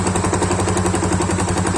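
A Yamaha FZ25 motorcycle engine with an abnormal internal noise runs continuously, a loud rapid mechanical knocking chatter heard up close with no voices.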